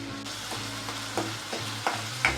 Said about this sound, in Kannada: ಹಸಿಮೆಣಸಿನ್ಕಾಯಿ, ಕಂದು ಬಣ್ಣ ಬರೋವರೆಗೂ ಹುರ್ಕೋಬೇಕು